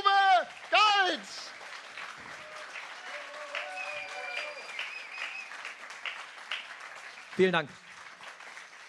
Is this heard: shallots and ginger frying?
no